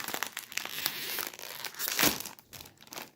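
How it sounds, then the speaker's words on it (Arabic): A snack bag of Lolo puffs, ketchup flavour, being torn open and crinkled up close, with sharp plastic rustles and a louder tearing burst partway through. "هنفتح كيس كيس ونحط بقى الفارغ ايه"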